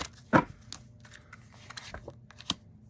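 Tarot cards shuffled by hand: one loud riffle burst near the start, then scattered softer card flicks and taps, with a sharp click late on, close and without talk.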